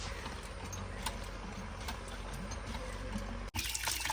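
A hand pump newly fitted on a bore well is worked to draw water, giving a steady, fairly loud rush of water and mechanical noise throughout, with a brief break near the end.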